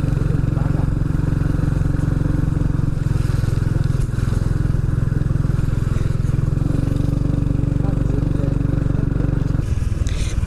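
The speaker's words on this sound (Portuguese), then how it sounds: "Tô indo de moto aqui que não é nada confortável" A motorcycle rumbles steadily along a potholed road on the way to an ecological horseback ride in Cocalzinho, its loud continuous engine drone joined by jolts, clatter and wind, with the engine settling near the end.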